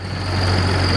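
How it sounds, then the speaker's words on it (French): A 1976 tractor engine idles at a vintage red tractor rally, giving a loud, steady low rumble with a strong droning hum and constant vibration, close by, with no talk. "c'est un tracteur qui date des années 76 environ, qui a certainement quelques milliers d'heures au compteur"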